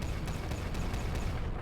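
Plasma cannon firing in the sci-fi strategy game Final Theory: a steady, loud roar of rapid booming shots with faint periodic cracks, continuous for the whole stretch and free of speech.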